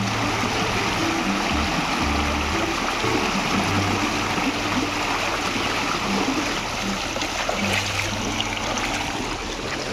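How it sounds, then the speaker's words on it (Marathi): Water flows in a stream by a hidden waterfall pond in Kokan, a constant close rushing and gurgling that fills the whole stretch with no voices. "फ्लो है पानी में तो मस्त फ्लो है।"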